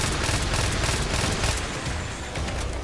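Gunfire in the video game Resident Evil 4, played on a modded impossible difficulty, comes as dense, rapid overlapping shots and booms that fill the whole stretch with no speech over them.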